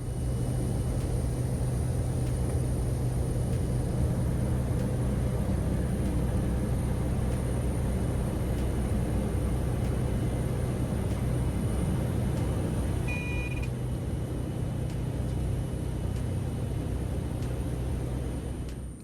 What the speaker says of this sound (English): We backtaxied out to the end of the runway and began our takeoff roll.